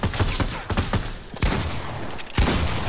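Bursts of shotgun fire ring out in a chaotic Fortnite-style three-way fight, several loud, punchy blasts in quick succession with echoing tails, close up and dominating the mix.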